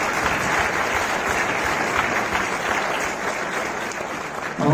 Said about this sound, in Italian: Marco Tullio Giordana, a cui dedicate un applauso.